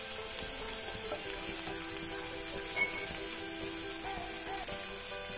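A spoonful of butter sizzling in a heated pan on the stove, a soft, steady crackling hiss with faint scrapes and small clinks, fairly quiet and continuous, no voices.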